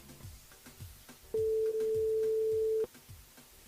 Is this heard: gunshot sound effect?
no